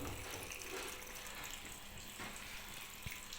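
Water streaming steadily through a washing machine's inlet valve as the drum fills, a constant hissing gush at low pressure with a faint knock near the end.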